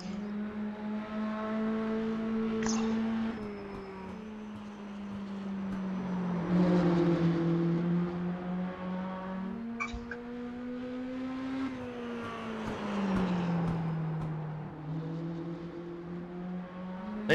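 Several mini stock race car engines on an oval track in the iRacing game drone steadily, their pitches rising and falling as the cars circle the track and shift gears, loud and continuous.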